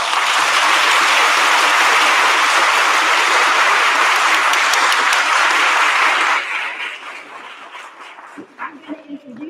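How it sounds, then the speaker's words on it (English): A large audience at an event honoring senators breaks into loud, dense sustained applause that fills the room for several seconds, then thins out into scattered claps and fades under a voice. "So we're going to start with a big round of applause."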